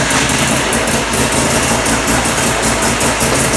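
Mazda RX-7 rotary engine idling roughly and losing RPM, a close, loud, steady low-pitched idle with slight pulsing fluctuations and no voices.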